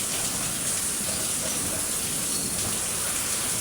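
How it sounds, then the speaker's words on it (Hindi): Heavy rain pouring in Haldwani, a loud, dense and unbroken hiss of water striking surfaces nearby, with no voices heard over it. "बारिश हो रही है अभी।"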